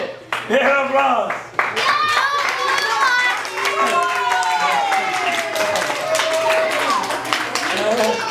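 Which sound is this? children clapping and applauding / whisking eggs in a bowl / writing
children clapping and applauding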